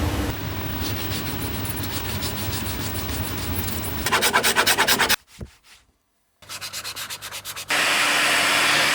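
Rapid back-and-forth sanding strokes on CR 500 motorcycle parts, steady and loud, broken by a brief pause, then rhythmic rubbing resumes with a harsher final stretch.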